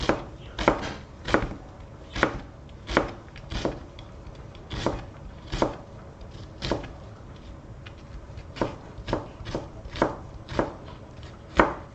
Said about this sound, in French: Alors moi j'émince mes oignons tout fins, tout menus